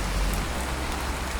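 Steady rain pours down outdoors during roadside repair of a shock absorber spring on a Citroën Berlingot, a dense, even hiss of drops hitting surfaces with no talk.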